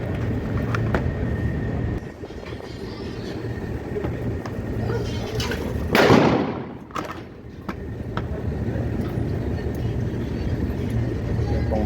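A new shotgun is test-fired outdoors as a single sharp blast that stands out above steady background noise and then fades away. No one speaks.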